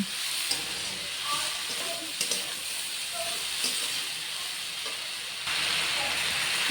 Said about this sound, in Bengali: কুমড়োগুলো অ্যাড করে দিয়ে আর একটুক্ষণ নেড়ে চেড়ে তারপরে অল্প জল দিয়ে ঢাকা দিয়ে দেব।